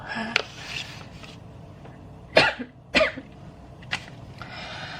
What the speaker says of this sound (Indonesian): Oke, sorry ya aku batuk.